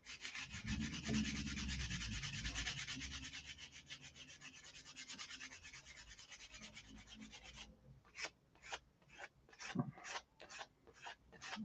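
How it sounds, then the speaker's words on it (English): A wheel skirt sanded by hand with 150-grit sandpaper: a long continuous scratchy rubbing close up, then a run of short separate strokes in a quick rhythm, with no talking. "we sanded it down to 150 there"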